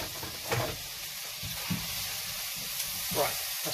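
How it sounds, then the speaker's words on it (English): Onion and mushroom fry in a pan with a soft, steady sizzle, broken by a few brief louder crackles and stirring scrapes. "we'll just get the onion and the mushroom fried off"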